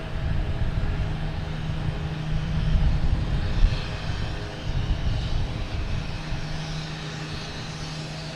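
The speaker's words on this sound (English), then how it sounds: "There's American Airlines, flight 108, 777 heading to London Heathrow." An American Airlines Boeing 777 jet airliner at Boston Logan Airport gives off a steady, loud roar with a deep low rumble that swells slightly midway, with no voices.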